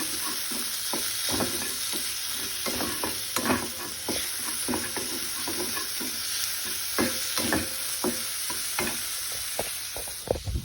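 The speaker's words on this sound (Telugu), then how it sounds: "ప్యాన్లో వేసి దాన్ని మొత్తం రోస్ట్ లాగా చేసుకోవాలి." A curry mixture is dry-roasted and stirred in a pan, with steady sizzling and repeated scraping strokes of a spoon across the metal, at a fairly even rhythm.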